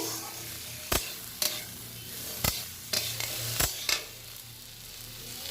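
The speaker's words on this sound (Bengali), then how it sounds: "ভালো করে নেড়ে নিব সবজিটাকে।" Okra and potatoes are stirred in a pan under a soft sizzle, with about seven sharp scrapes and clacks of a spoon at uneven intervals over a faint low hum, close and fairly quiet.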